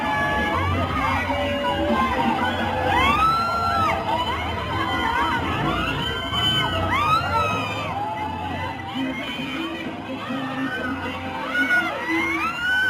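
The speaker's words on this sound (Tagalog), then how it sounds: "Sigawan pa nga, palapit ng palapit yung float parade." A crowd shrieks and cheers as a float parade draws nearer, with dense overlapping shouts, children's squeals and whistle-like calls forming a continuous loud din.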